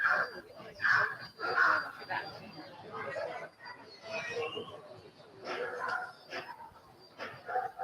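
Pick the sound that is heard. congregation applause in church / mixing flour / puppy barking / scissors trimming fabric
puppy barking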